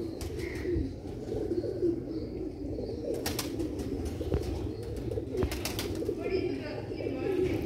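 Pigeons, including a black-faced pigeon kept by a hobbyist, coo in soft, repeated low calls that go on steadily through the whole stretch, with faint background voices and a few brief sharp noises.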